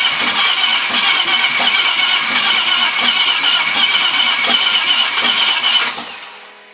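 A Renault 5 replica's V6 turbo engine fires up for the first time and runs loud and steady close by, a rough throbbing idle that drops away as it shuts off near the end.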